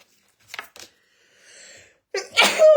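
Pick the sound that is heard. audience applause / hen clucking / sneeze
sneeze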